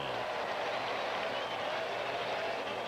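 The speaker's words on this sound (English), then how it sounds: "Crowd making a lot of noise" A baseball stadium crowd at a Cardinals–Cubs game roars in a steady, dense wash of cheering and noise that fills the whole stretch without a break.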